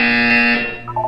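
A buzzer from the video game Portal 2 sounds as a loud, steady electronic tone lasting about a second, then cuts off into a brief quieter tonal blip.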